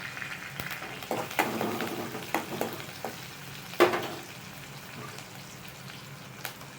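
Curry leaves sauté lightly in a pan for tomato rasam, soft sizzling with scattered pops and a few stirring knocks, close and moderately quiet.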